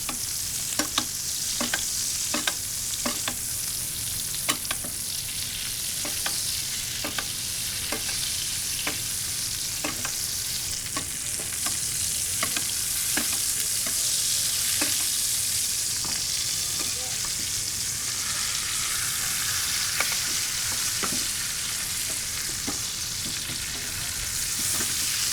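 A steak sears in a pan with butter and chopped thyme, sizzling in a loud, steady hiss throughout. Soft clinks and taps from stirring or basting recur every second or so.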